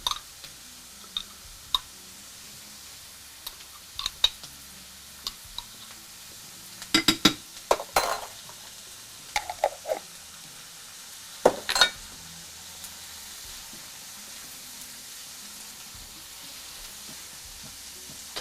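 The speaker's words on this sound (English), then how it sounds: "We're going to saute these until they get tender" Chopped vegetables and garlic sauté in a pan for a tuna casserole, a faint low sizzle running underneath scattered clinks and sharp scrapes of a utensil, with a busier cluster of knocks midway.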